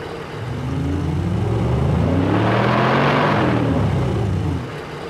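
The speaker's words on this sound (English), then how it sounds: "now when you do the revs, you can see it go between the engine and the exhaust" Synthesized car engine and exhaust revving, built in Krotos Igniter: a low harmonic rumble swells as the revs climb and fall in one smooth sweep, loud and continuous, with no voices.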